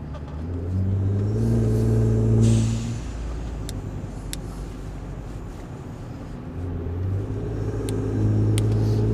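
A turbo V6 M276 Mercedes GLE exhaust with valves open revs deeply, a loud rising rumble that settles to idle and then climbs again, heard close up.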